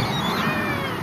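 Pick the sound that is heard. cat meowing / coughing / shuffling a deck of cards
cat meowing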